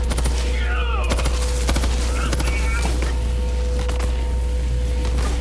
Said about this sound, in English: It's not the easiest pistol to use, but you can see, man, one shot, that guy went down.